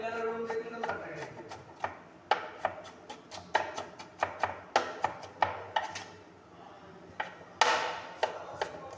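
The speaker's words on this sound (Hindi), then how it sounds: "ये देखो प्याज काटुंट" Onion being chopped with a knife on a board, a fast series of sharp close taps with brief pauses, and a voice speaking faintly in the background at moments.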